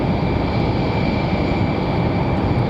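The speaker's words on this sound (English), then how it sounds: "Still got one more A320 sitting down at the end of the runway," An Airbus A320 airliner waits at the far end of the runway at Raleigh-Durham International, its engines producing a steady, continuous broadband roar with a faint high whine, heard from a distance without pauses or voices.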